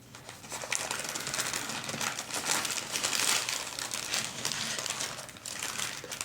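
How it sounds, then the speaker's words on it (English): Taco Bell food wrappers crinkle and rustle up close in quiet, continuous bursts of crisp paper and foil crackling, rising and falling in intensity with no talk. "If my crinkling is too loud, please don't kill me."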